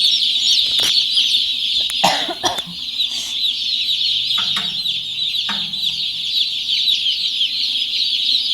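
Several chickens cluck and chatter continuously close by, with a few sharper squawks and thumps scattered through.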